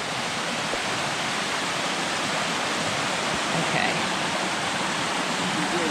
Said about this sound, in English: That is the top of the waterfall.